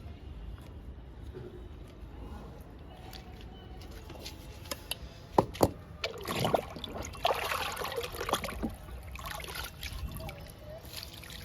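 Homemade kitchen-waste liquid fertilizer poured over garden plants: a quiet outdoor hush, then partway through, uneven trickling and splashing with a few sharper spatters, continuing steadily to the end.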